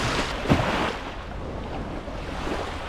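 Waves wash steadily onto a freshwater Great Lakes shore on the Michigan side after a storm, a broad continuous surf roar with gusty wind buffeting the microphone and no voices.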